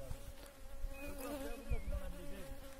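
A dense, close mass of honeybees hums and drones steadily around a hive that invasive bees have entered, the overlapping buzzing continuous and fairly loud, with no talk.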